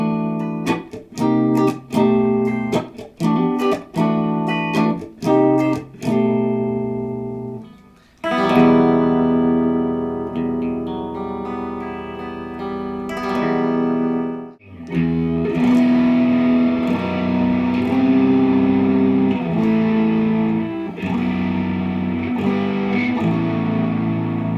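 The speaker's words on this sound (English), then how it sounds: "let's hear a little clip of you playing clean, and then a little bit of you playing with distortion" Electric guitar played first with a clean tone as separate picked notes and chords, then switching to a thick, sustained distorted tone that fills the rest of the passage, loud and alone without talk.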